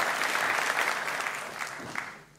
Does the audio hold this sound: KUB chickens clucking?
no